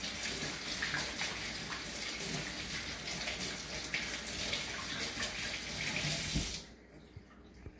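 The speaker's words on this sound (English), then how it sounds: "Wash your hands well for at least 20 seconds." A kitchen tap runs steadily while hands are washed before baking muffins, a loud continuous rushing stream close to the microphone that cuts off abruptly near the end, leaving quiet.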